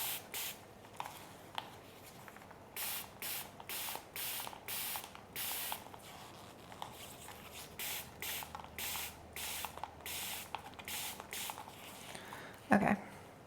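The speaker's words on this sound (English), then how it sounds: "I'm gonna go ahead and mist this a little bit" A handheld spray bottle mists a begonia in a rapid run of short, breathy pumps, close and fairly soft, with a faint trigger click between squirts and a brief knock near the end.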